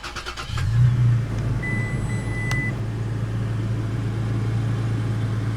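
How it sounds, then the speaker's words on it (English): A 2017 Toyota Tacoma TRD Pro fires up with a push-button start: a short crank surges into a throaty catch, then the engine settles into a steady, close idle rumble. "To start it, all you do is hop in with the key fob on your person, foot on the brake, and tap it."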